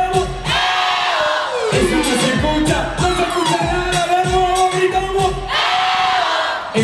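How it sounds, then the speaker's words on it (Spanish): A concert crowd at a show shouts and yells loudly in a sustained roar for several seconds, with swelling peaks and music ringing underneath. "De nuevo gritamos."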